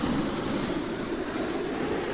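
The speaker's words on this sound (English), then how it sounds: "You're gonna have the helicopter." A helicopter in the video game Worms W.M.D gives off a steady, loud whirring engine drone that holds level throughout without talk.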